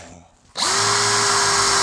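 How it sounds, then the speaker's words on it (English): A drill motor spools up sharply and holds a steady, loud, close whine while spot drilling holes in a Colt 1911 grip, after a quieter lead-in. "I'm going to grab my drill motor here."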